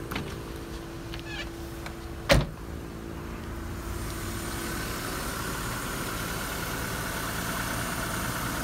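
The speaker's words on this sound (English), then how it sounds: "And we're gonna put the car on full blast AC" A 2001 Mitsubishi Mirage idles quietly while its air conditioning runs on full blast. A single sharp click comes near the start, then a soft, steady blower hiss builds and holds over the low engine hum.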